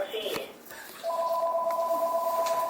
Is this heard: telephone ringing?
yes